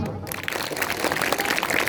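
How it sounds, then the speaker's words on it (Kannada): An audience at a stage performance with a chief guest claps, a dense burst of crackling applause filling the short moment. "ಒಂದು ಚಪ್ಪಾಳೆ ಕೊಡ್ರು"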